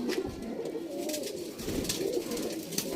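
Pigeons coo in soft, repeated rolling phrases, close by and steady across the stretch, with no talk over them.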